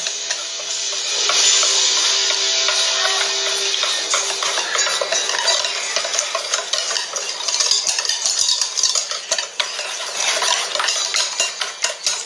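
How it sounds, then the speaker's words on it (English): A whisk beats batter in a bowl for catfish breading, a steady rapid clatter of metal tines against the bowl that goes on for several seconds with no talk. "A good whisking."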